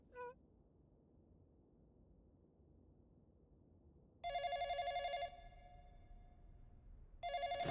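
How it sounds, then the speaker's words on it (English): A telephone rings twice with electronic tone bursts, the first about a second long and the next starting after a pause, loud over a quiet hum, with a short chirp at the start and no speech. "Yes, when the phone rings, one answers it."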